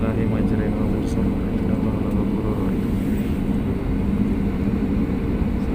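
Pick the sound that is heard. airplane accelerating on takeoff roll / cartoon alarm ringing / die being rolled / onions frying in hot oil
airplane accelerating on takeoff roll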